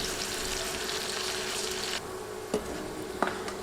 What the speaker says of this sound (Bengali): তেল গরম করে বেরেস্তা করার জন্য দিচ্ছি কিছু পেঁয়াজ কুচি হাফ কাপের মতো পেঁয়াজ কুচি দিলাম এখন নেড়ে নেড়ে বাদামি করে ভেজে নিব